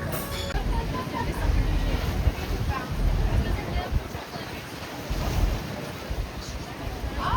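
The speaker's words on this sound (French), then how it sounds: "La mer est agitée aujourd'hui, comme par hasard." Rough sea at the seaside in Malta: continuous churning surf and wash with low rumble and gusting wind noise on the microphone, swelling and easing in surges, with faint murmuring voices in the background.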